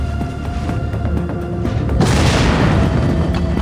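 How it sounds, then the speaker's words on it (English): Set charges detonate in the co-op mode of the video game Splinter Cell Conviction: a low ambient game bed is hit by a sudden loud boom that settles into a heavy, sustained rumble. "the guys will hear the explosion"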